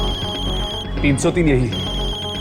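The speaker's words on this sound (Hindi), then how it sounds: "मैंने इस फोन से अपने मोबाइल पर फोन किया था।" A mobile phone ringing indoors in a horror drama scene, an electronic ringtone with a steady tone running throughout, loud and close, while someone speaks over it partway through.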